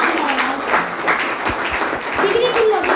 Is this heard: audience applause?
yes